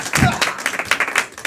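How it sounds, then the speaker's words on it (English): An audience claps together for Alex at a Halloween special event, a dense stream of close hand claps with some voices mixed in. "Clap for Alex, everybody!"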